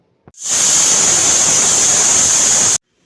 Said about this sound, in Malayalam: ഇനി പാകത്തിന് വെള്ളം ഒഴിച്ച് നമുക്കൊന്ന് നന്നായി അരച്ചെടുക്കാം